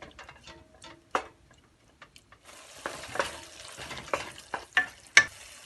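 Food being stirred and lightly cooked in a pan for a Hindi/Urdu home recipe, soft sizzling with scattered scraping and clicking stirs, quiet and close, no voices.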